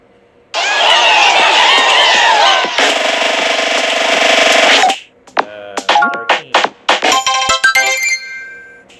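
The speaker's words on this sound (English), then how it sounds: "the toad that were cheering have decided to join your kingdom" Toad characters cheering in the mobile game Super Mario Run: a loud, dense burst of cartoonish crowd cheering for a few seconds, then a string of short bright chimes and jingly game sounds.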